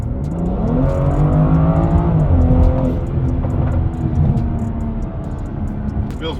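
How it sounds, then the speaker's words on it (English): A tuned BMW car with an aftermarket blow-off valve accelerating hard: engine note climbing through the revs under load, near and loud, with a short shift and continued pull afterward. "I put an aftermarket blow-off valve on this car in preparation for when I would tune it, and now I can finally feel it come into play. You can hear it a lot more."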